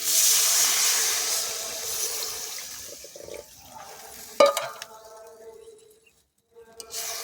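Water is poured into a pot of sautéed egg and potato curry cooking over a wood fire. A strong hiss fades steadily, a sharp metal clank follows, then near silence before faint bubbling returns.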